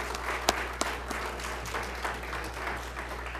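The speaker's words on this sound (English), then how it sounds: "Let's give them a big round of applause," An audience at a candidate forum in Canon City, Colorado applauds, giving a moderate, fairly distant wash of clapping with a few sharper individual claps over a steady low hum.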